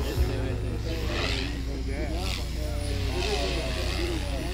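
An SAB Raw 420 RC helicopter flies smoothly at a 2024 chill-out fly-in, its steady rotor and motor drone continuous throughout while people talk over it nearby.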